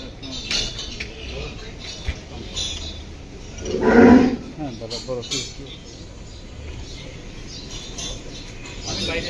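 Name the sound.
cattle mooing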